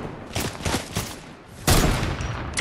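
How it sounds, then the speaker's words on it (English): Rapid bursts of gunfire in Fortnite, several close sharp volleys followed by a loud sustained stretch of shooting, with no talk over it. "I'm getting shot at."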